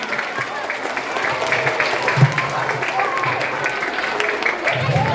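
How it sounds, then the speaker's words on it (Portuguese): Audience at an accessibility talk claps for Luiz Miguel, a steady wash of applause under some talking that continues throughout. "palmas para o Luiz Miguel"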